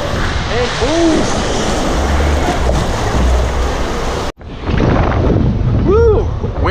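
Strong wind buffeting the microphone on the open deck of a Norwegian Getaway cruise ship during a sea day, loud continuous rushing and rumbling gusts with a brief cutoff midway, and people's voices mixed in underneath.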